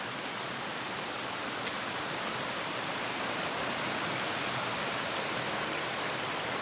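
Waterfalls and floodwater pour down a rain-soaked mountain trail, a constant broadband roar that stays loud and even throughout, with no voices.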